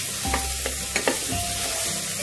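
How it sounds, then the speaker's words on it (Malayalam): Ginger, garlic, onion, green chilli and capsicum being sautéed in a pan for chicken mandi biriyani, a constant close sizzle with a few quick spatula scrapes and light clinks, no speech. "നമ്മൾ ഇഞ്ചി, വെളുത്തുള്ളി, സവോള, പച്ചമുളക് ഇതെല്ലാം ഇട്ട് വഴറ്റി"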